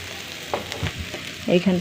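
Spices with salt and turmeric being stirred as they fry in a pan, a brief close sizzle with a couple of soft scrapes and a louder sputter near the end.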